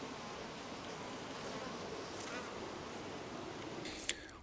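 Dense, steady buzzing of a large honey bee colony caught as a swarm from atop a barn, heard up close with the hive open during an inspection, continuous throughout with one brief knock near the end.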